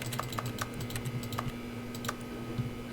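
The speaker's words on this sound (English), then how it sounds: "I hear like a keyboard click." A string of sharp keyboard-like clicks sounds each time the left mouse button is pressed while The Stanley Parable is being played. The clicks come at an irregular pace over a steady low hum, close and fairly quiet, with no voices.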